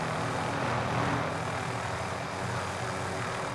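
A continuous heavy helicopter engine drone in a video game, with a low rotor-like rumble holding steady throughout, loud and close, with no voices.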